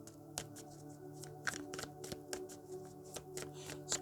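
Quiet, close rustling and flicking of tarot cards being shuffled by hand, with soft irregular slaps over a faint steady hum.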